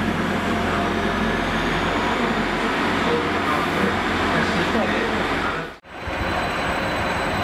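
A train at Cardiff Central station rumbles loudly and steadily close by with a broad, continuous roar, broken by a brief sharp drop in sound near the end.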